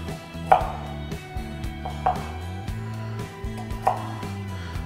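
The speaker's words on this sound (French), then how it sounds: "Ici, pour les choux de Bruxelles, on va simplement les couper en deux." A knife chops Brussels sprouts in half on a cutting board, giving several distinct, evenly spaced thuds and clicks over a steady tonal hum from a nearby appliance, with no talk.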